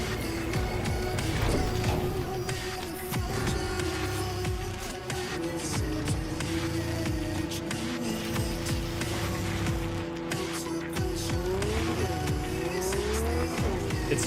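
A car drives in the video game Cyberpunk, with a continuous engine drone whose pitch bends up and down under a steady bed of music, along with occasional tire noise.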